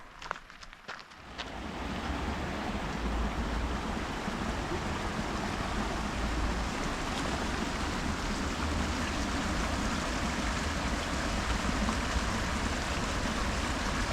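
Steady, dense roar of a waterfall in Spearfish Canyon, South Dakota, broadband and constant after a brief quieter start, close by.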